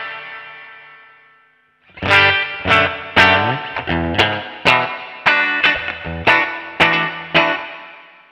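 Electric guitar run through a NUX MG-300 multi-effects unit's reverb: a faint swelling tone fades in, then a dozen or so crisp strummed chords ring out in a steady rhythm, each trailing into a wash of reverb.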